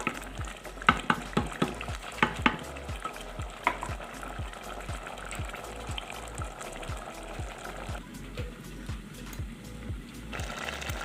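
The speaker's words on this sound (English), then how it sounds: "I'm going to cover this to simmer for a few more minutes again." A pot of vegetable-egg soup bubbles and simmers, with a steady stream of close, rhythmic popping and ticking over a soft wet background and no talk.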